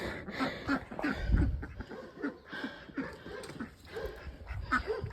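A dog whimpers and whines in short, repeated pulses close by, with faint panting between them.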